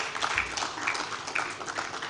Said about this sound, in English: Will please give her another round of applause